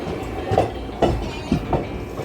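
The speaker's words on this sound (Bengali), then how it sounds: "এখান থেকে ট্রেন ছেড়ে যাবে ধানবাদের উদ্দেশ্যে" Rhythmic clickety-clack of the Black Diamond Express's wheels rolling over rail joints as it leaves a station, regular thumps about every half second under a constant rumble.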